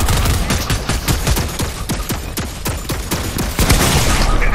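Rapid bursts of video game gunfire in Fortnite, a dense fusillade of loud, overlapping shots and booms filling the whole stretch with barely a pause.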